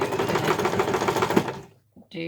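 Sewing machine stitching a piped cushion cover with the presser foot snug against the piping cord, a fast close mechanical whirr that runs about one and a half seconds, then stops, followed by a short beep-like tone.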